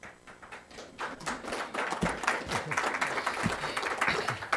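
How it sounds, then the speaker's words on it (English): A room of audience members, including a group of bankers, clapping at a civic gathering on regional collaboration; steady, moderately loud applause with dense overlapping claps throughout, no voices standing out. "There are 9 bankers here who just clapped, but they should clap for you too."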